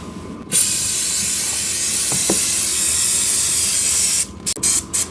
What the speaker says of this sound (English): Right, well, there's a brake cleaner.